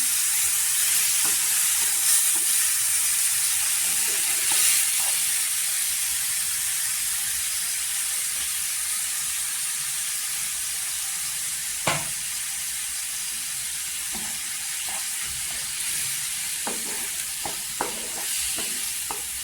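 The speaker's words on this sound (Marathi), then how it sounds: "मसाला तेलावर परतून घ्यायचा" Spice masala sizzles and fries in hot oil in a home kitchen, a steady bright hiss throughout with occasional stirring clicks and scrapes of a spoon in the pan.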